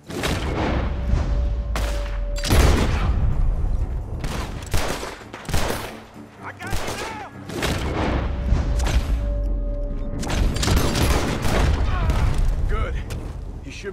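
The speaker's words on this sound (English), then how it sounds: "The gunshots are coming from that..." Gunfight in Red Dead Redemption 2, with repeated sharp gunshots and heavy booming blasts crackling in rapid bursts, broken by a brief lull, while characters speak over the shooting.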